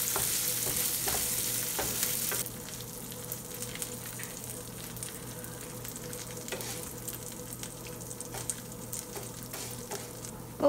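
Urad dal and curry leaves frying in oil, a soft continuous sizzle with frequent light stirring taps and scrapes in the pan, fairly quiet and close, over a faint low hum.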